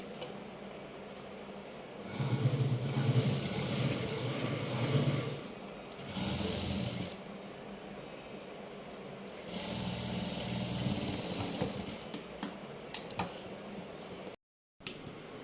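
A sewing machine stitches a long frock in several close runs of mechanical whirring that stop and start, with faint ticking and fabric handling between them, and a short silent gap near the end.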